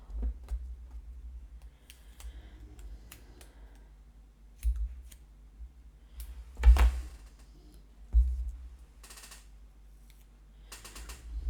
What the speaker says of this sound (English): the word night cut off that little tail.